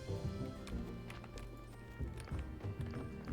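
Donkey hooves clip-clopping in the video game Graveyard Keeper, a brisk, repeated trotting rhythm of light hollow knocks, close and continuous over a low background.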